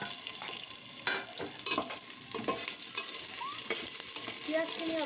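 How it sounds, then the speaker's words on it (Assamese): Chopped onions frying in oil with spices in a pressure cooker for chicken biryani, giving a continuous close sizzle punctuated by irregular scraping and tapping of a spoon stirring. "পিঁয়াজখিনি অলপ ৰঙচুৱাকৈ ভাজিব লাগিব।"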